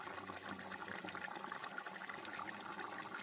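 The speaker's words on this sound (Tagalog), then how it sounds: "Sarap ng pagkulo niya" Monitor lizard adobo in coconut milk boiling in a pot, a quiet, continuous bubbling simmer with small irregular pops close by.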